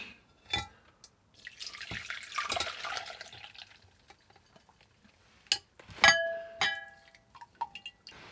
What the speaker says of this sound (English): We're gonna go ahead and strain them out.